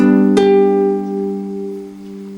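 One chord strummed once on a nylon-string classical guitar, near and clear, the strings sustaining and slowly fading with no speech over them.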